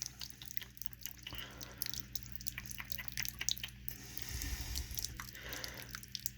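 A dog laps water, producing soft wet drips and squishy licking sounds at close range, low and steady throughout without talk.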